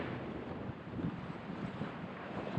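Steady wind rushes across a sailing boat during a race, a continuous broad hiss with a gentle swell and no distinct events.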